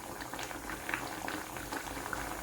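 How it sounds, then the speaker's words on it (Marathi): A pot of traditional curry with coriander boils on the stove, a close, continuous bubbling and popping of thick liquid with no voices. "कोथिंबीर घातल्यानंतर उखळी आलेली"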